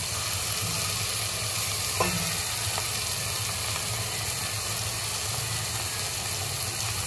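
Coconut gravy with tuna being stirred in a pan, a steady low scraping and bubbling simmer running throughout with a faint hum in the background.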